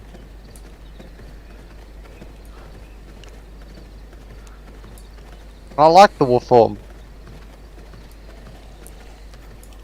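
Horse hooves clip-clop in a short, quick cluster of clops in the video game V Rising, standing out from quiet game ambience while people talk.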